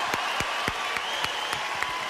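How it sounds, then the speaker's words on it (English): Clapping fills the space, with a few sharp, evenly spaced claps standing out close by over a softer crowd background. "how about another round of applause for Supreme Master Ching Hai?"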